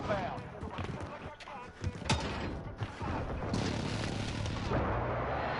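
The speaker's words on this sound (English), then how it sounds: "friendly precision airstrike inbound" Precision airstrike in a video game, a dense continuous rumble of heavy explosions and rolling booms, loud and sustained with sharper cracks throughout, under faint voices.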